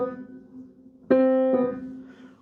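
Piano notes slurred across two hands in a down-up arm-weight pattern, a sustained tone struck again with a fresh attack and held as it fades, alone without talk.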